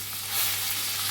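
Brinjals dropped into hot oil with cumin, curry leaves, turmeric and red chilli powder fry with a steady, loud, hissing sizzle close by, with no voices over it.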